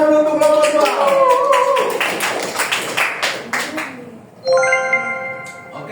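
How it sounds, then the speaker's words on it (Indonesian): A classroom gives a short round of clapping for a student group, scattered hand claps mixed with voices and chatter, with a brief ringing tone near the end. "Tepuk tangan dulu untuk kelompok 2."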